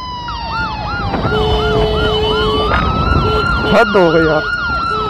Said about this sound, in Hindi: पीछे एम्बुलेंस अरे कोई साइड नहीं दे रहा